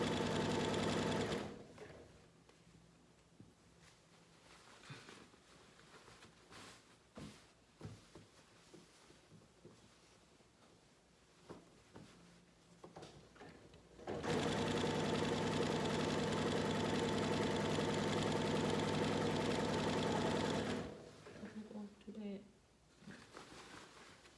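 A sewing machine stitches a jelly roll race quilt in bursts, with a long steady whirring run in the middle, shorter runs before and after, and a person talking between them.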